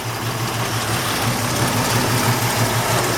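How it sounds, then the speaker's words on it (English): A 1964 Chevrolet C-10 pickup's V8 idles steadily through true dual exhaust with a deep, rhythmic burble, loud and close, no talking. "Healthy sounding engine."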